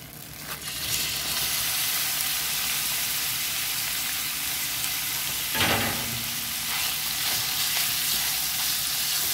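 Bacon sizzling steadily in a pan over medium-high heat, a dense, continuous crackling hiss that stays loud and close throughout, with one brief louder burst partway through and no speech.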